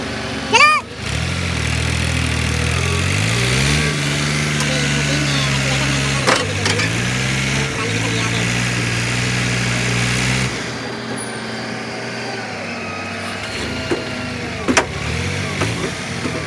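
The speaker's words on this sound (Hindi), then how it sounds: "अभी ट्रैक्टर ट्राली फंस चुके हैं" Tractor hauling a trolley, its engine running and revving in uneven surges while getting unstuck, loud and close, easing off partway through.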